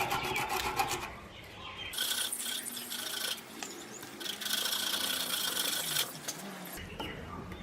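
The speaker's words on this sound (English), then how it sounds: "So I'll just get some 80 grit sandpaper and just clean that up." Jarrah wood crochet hook being sanded with 80 grit sandpaper, likely on a woodturning lathe; a steady, loud abrasive rasping and rubbing runs the whole time with brief changes in pressure.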